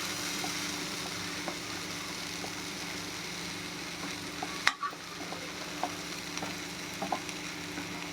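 Chickpea sundal stirred in a pan, a soft steady sizzle with faint scraping and one sharp clatter midway, followed by light taps, quiet and close.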